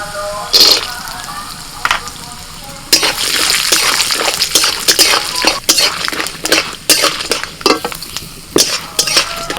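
Urad dal and peanuts fry in hot oil in a pan, with crackling sizzle and repeated stirring scrapes growing busier after a quiet start.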